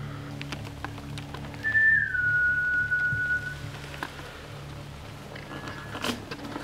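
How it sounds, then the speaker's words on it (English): A single clear whistled tone, gliding down slightly and held for a couple of seconds, heard faintly over steady background noise with light patter. "I was sure I heard a whistle"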